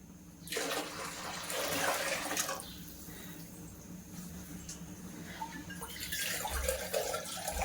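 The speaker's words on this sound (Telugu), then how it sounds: "అందుకోసం అనేసి నేను కొన్ని ఎక్కువనే పోస్తున్నాను వాటర్" Water is poured steadily into a cooking pot for chicken biryani, a continuous soft splashing rush with a low hum beneath it and no voices.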